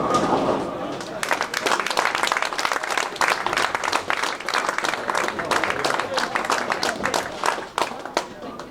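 A crowd applauds at a Special Olympics bowling event, clapping dense and sustained for several seconds after a bowler's first 200 game, with scattered cheers mixed into the steady clatter.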